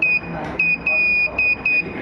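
The Morse code buzzer on a Meta Morse STEM toy sounds a series of short and longer steady electronic beeps of one pitch, clearly keyed dots and dashes over faint room noise.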